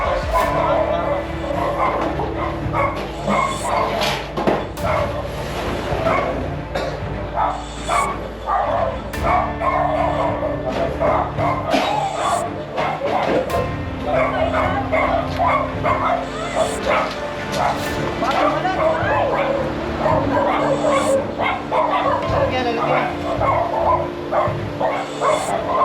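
Several dogs bark and yip in bursts at night near a home during a disturbance, with whimpering between barks and people talking over the racket throughout.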